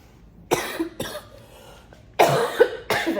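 Repeated harsh coughing from a person at an acrylic ink painting session, about five close bursts in two clusters separated by short quiet gaps.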